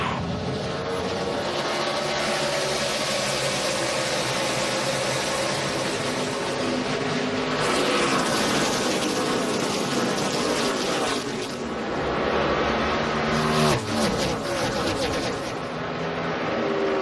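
NASCAR stock cars at the Brickyard 400 in 2011 accelerating on a green flag restart, a loud, continuous roar of many engines with rising and falling pitch as the field sweeps past.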